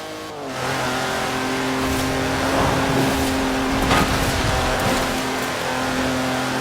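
A Jaguar E-Type engine in the Forza Horizon 4 racing game revs up and holds a steady, loud, buzzy drone with strong harmonics, rising slightly as the car accelerates, with a brief squeal midway.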